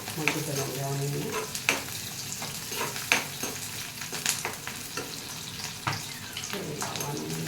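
Onions fry on full flame in a pan with a steady, close sizzle, punctuated by irregular stirring knocks and scrapes against the pan.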